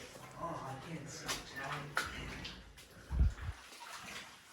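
Wading through stagnant, swampy water inside an old Sierra Nevada gold mine: sloshing and splashing steps with a few low heavy plunges, heard beneath a person's talk.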